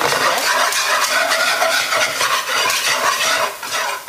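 A whisk stirring onions and shallot with a bay leaf in a pan for creamed spinach, loud close scraping and clinking over a soft continuous sizzle, no talking.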